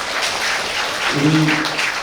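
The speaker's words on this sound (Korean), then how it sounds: "박수 부탁드리겠습니다." Audience applause at a Korean science forum on plastics, a steady wash of clapping heard from the hall after a lecture ends, with faint voices underneath.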